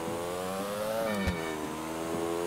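A steady motorcycle engine hum in GTA IV holds an even pitch, with a brief thump in the middle, and there is no talking.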